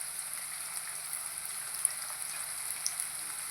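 Onions and seasoning seeds sizzle in hot oil, a soft, steady crackle with scattered tiny pops throughout, heard alone.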